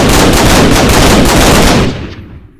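Rapid automatic gunfire from a modded gun in Minecraft's Flans Mod, a dense, loud burst of repeated shots that stops abruptly near the end, leaving a brief fading tail.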